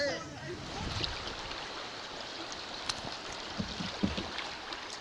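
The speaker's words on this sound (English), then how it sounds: "Here we're going down this one area and got a bunch of waves and stuff" Creek rapids on Antietam Creek, heard from a canoe during a float trip, make a steady close rushing wash of moving water. Small knocks and splashes break through now and then.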